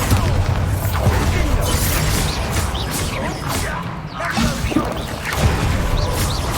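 Bombarda blast spell in the video game Hogwarts Legacy: loud, dense booming and crashing impacts with whooshes and debris, continuous combat noise throughout.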